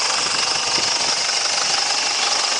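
A Ford Ranger 3.0 WEAT diesel engine runs at idle close by, a loud, even, gravelly clatter with a steady knocking rhythm and no voices over it.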